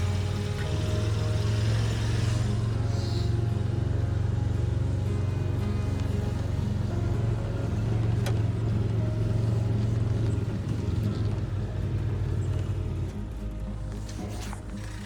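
A Gator utility vehicle engine drones steadily and loudly throughout, a continuous low rumble while driving in extreme cold, with no speech over it.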